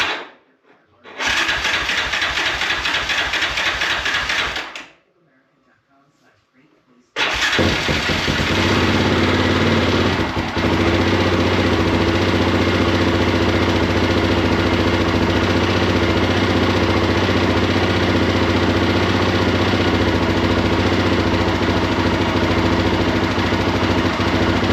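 A 2001 Yamaha Raptor 660r ATV with many issues cranks in a long grinding burst, pauses, then fires and settles into a loud, steady, close idle that runs for the rest of the clip.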